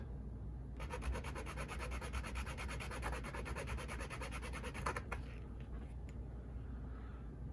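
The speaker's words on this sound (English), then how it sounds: "So I'm filing a slight angle in there that you can see." A metal file works a brass guide rod on a Roundhouse 0-6-0T model locomotive, rapid rhythmic rasping strokes close up for about four seconds, then stopping, followed by a few light clicks.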